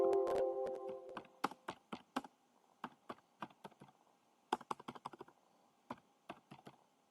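Text is typed on a computer keyboard into an MS Word document, with a dense fast burst of clacking keys first, then scattered single and clustered keystrokes, close and clear, alone.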